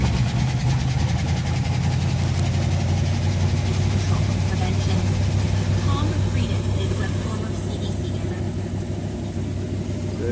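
A carbureted 1978 Jeep CJ-5 engine idles after a cold start in freezing weather, a steady low rumble running continuously and fairly loud, with a voice talking over it.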